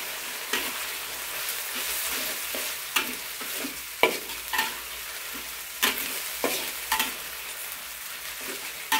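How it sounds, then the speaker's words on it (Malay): Ground chili paste and tomato sauté in oil for sambal with a constant hiss. A spoon stirs in close, irregular scrapes and clanks, with no talking. "Tumis bahan kita ini sehingga betul-betul dimasak"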